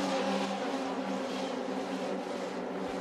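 Racing cars at Spa's Eau Rouge, a pack of 26 led through the corner, roar past with a loud sustained engine drone and steady harmonic tones, no voices heard.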